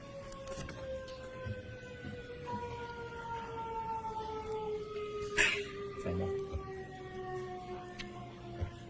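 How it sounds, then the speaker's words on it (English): A siren wails faintly in the distance as long, slowly falling tones over a low background. Several overlapping pitches glide downward, with a few brief knocks and thumps in between. "I was just waiting for the siren"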